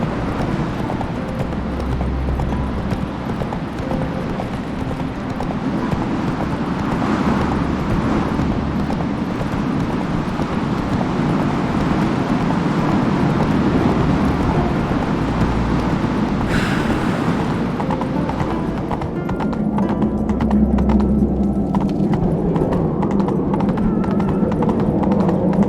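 A horse rides in The Witcher 3: Wild Hunt, its hooves beating a continuous rolling clip-clop over a dense game soundscape, steady and moderately loud throughout with no one speaking.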